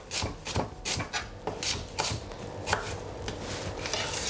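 A knife chops a white onion on a board with quick, steady, crisp strikes, close up and alone.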